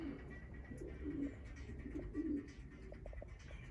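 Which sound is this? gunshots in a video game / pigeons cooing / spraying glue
pigeons cooing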